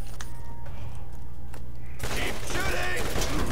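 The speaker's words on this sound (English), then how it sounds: "Keep shooting!" Rapid gunfire in the video game Borderlands 1 remastered, a dense burst of shots that erupts loudly partway through over a constant game hum, with a voice talking over it.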